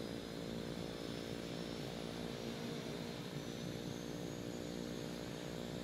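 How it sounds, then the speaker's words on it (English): Beechcraft Duke turbine variant engine in Microsoft Flight Simulator spooling up, a steady loud droning roar with a low tonal hum and broadband hiss holding evenly throughout, no talk. "even though the engine's spooling, you'll see the propeller starting to spin slowly"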